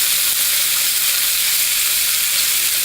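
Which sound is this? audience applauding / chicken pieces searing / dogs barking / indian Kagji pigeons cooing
chicken pieces searing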